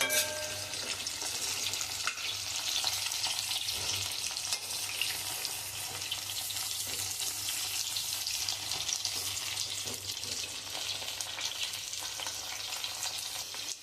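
Brinjal sautéing in oil in a pan for a Tamil Nadu style curry, giving a continuous dense sizzle and hiss with faint stirring underneath, close and steady throughout.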